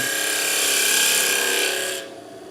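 Steady abrasive hiss of a hollow wooden Christmas ornament being sanded on a spinning lathe, loud and continuous, then cutting off abruptly near the end.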